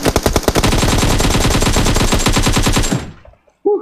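Sustained rapid automatic gunfire in a mobile shooter game, loud and close, with evenly spaced shots in a long burst that cuts off abruptly, followed by a short pause and one more sharp sound at the end.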